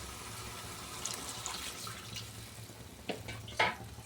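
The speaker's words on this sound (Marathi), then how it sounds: "बघा टाकून दिलं आपण पाणी" Faint background hiss gives way to a couple of short splashy pours near the end, water hitting a pan.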